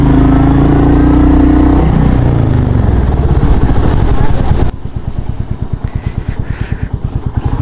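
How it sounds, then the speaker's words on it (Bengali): A Royal Enfield Meteor motorcycle, a higher-capacity bike in Bangladesh, revs loudly up close, then its engine drops back to a rhythmic, thumping idle with clattery pulses. "রেভ করলে পাওয়ার তো আছেই, কিন্তু বাইকটার যা সাউন্ড একবারে পাগল করে ফেল দেয়"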